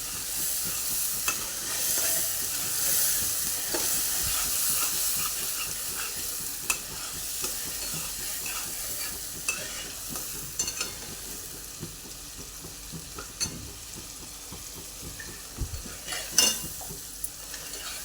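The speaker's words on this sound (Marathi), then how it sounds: "आता हे मसाला परतून घेऊ चांगला आपण" A steady sizzle of masala for a soya chunk curry frying in a pan, with scraping and stirring from a utensil and occasional metallic clinks throughout.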